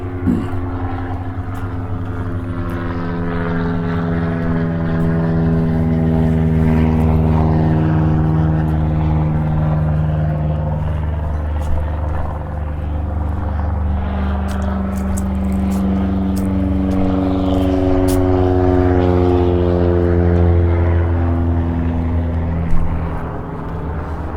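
Propeller airplanes near an airport runway by an orange grove park in Mesa, Arizona, give a loud sustained droning engine tone that slowly shifts in pitch, swelling and easing over about twenty seconds with no talk.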